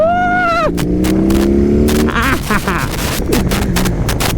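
BMW R18 First Edition motorcycle with its big boxer engine accelerating through second and third gear, a loud, deep rising drone with gear changes and rhythmic thumping as the engine note climbs and shifts.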